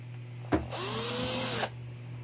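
A cordless drill spins up sharply, runs at a steady high whine for about a second while being used to try friction welding, then cuts off abruptly.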